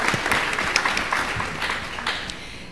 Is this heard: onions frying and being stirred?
no